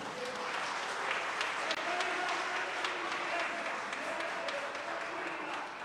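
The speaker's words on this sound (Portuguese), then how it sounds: "Palmas para Jesus." A church congregation claps during a Sunday morning service: a sustained, even wash of many hands clapping, fairly distant and steady for about six seconds, with voices mixed in.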